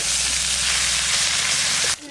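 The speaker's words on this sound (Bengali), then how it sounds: "তোকে তো ইলিশ মাছের মাথা ভাজতেছি" Hilsa fish heads frying in oil: a loud, dense, hissing sizzle that holds steady for about two seconds, then cuts off abruptly.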